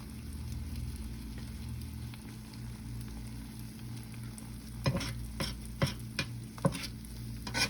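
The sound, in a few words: eggs frying in butter on the stove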